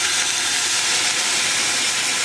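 Balsamic vinegar hitting a hot pan of lightly browned red onions gives a steady, close, loud steaming hiss that holds evenly throughout, with no talking.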